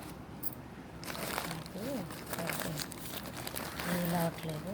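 Plastic cover being handled and folded while packing dried items, giving steady crinkling and rustling throughout with someone talking over it.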